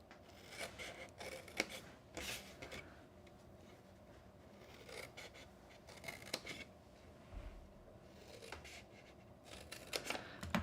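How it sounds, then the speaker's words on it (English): Paper snips cut along score lines in paper while a gift box is being made, giving repeated close crisp snipping and rustling with intermittent sharp clicks of the blades. "Grab my paper snips. I'm going to cut up each of those vertical score lines"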